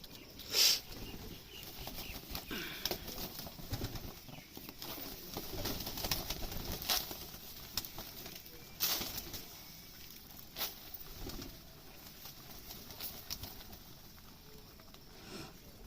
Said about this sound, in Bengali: এটা আমার শিকারি কবুতর এই দেখেন